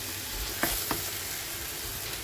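Potatoes with turmeric sizzle steadily in a hot pan, a constant frying hiss broken by a couple of quick scraping stirs, close and alone with no talk.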